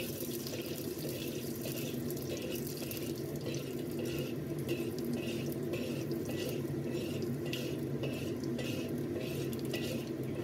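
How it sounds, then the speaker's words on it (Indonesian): Garlic stir-fries in hot oil in a pan for a Hong Kong-style home dish, a steady close sizzle with a regular rhythm of spatula scrapes and metallic taps, no voices. "setelah minyaknya panas, ini langsung aja kita tumis bawang putihnya hingga sampai dengan harum"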